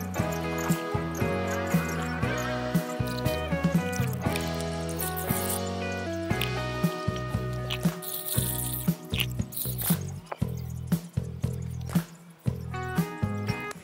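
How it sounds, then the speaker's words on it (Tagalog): Nutrient solution poured into a 2-inch PVC pipe for a Kratky lettuce system, a continuous trickling, gurgling flow with rattling plastic knocks and changing pitch as the pipe fills, close and fairly loud, no talking. "tutubigan na natin. Ito yung may halo ng nutrient solution. Lalagyan lang natin hanggang sa mapuno,"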